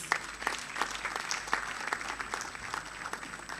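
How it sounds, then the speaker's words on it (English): Audience at a school records digitization launch event claps in a sustained round of applause, moderately loud, with scattered sharp individual claps standing out from the steady patter. "I think the team deserves another round of applause."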